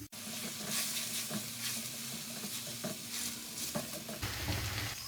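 Finely chopped onion frying over a high flame, a steady broadband sizzle with repeated stirring scrapes, close and continuous with no talk.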